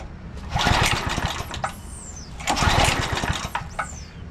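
A 2007 McLane reel mower's small gasoline engine runs at high idle with the choke off, a loud, close, buzzing drone that surges in two long bursts with brief dips between them.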